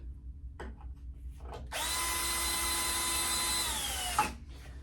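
A power drill drives screws into a 12-inch figure display stand. After a few light taps, one sustained close whirring run of about two and a half seconds winds down and stops.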